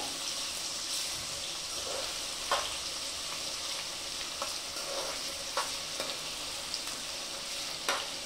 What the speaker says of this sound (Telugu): అల్లం వెల్లుల్లి పేస్ట్ కూడా వేసేసుకుంటే ఒకసారి అది కూడా పచ్చి వాసన పోయేంత వరకు వేపుకోవాలి